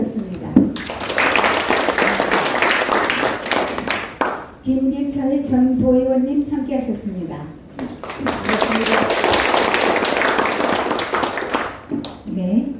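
An audience claps to welcome guests being introduced at the Jeongseon regional forum, in two loud bursts with a brief sung passage between them, while an announcer's voice is heard.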